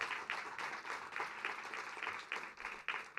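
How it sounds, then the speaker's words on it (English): An audience at a community forum gives a round of applause, a dense, steady clapping that swells and pulses in soft waves for several seconds, heard from a moderate distance. "So give him a round of applause."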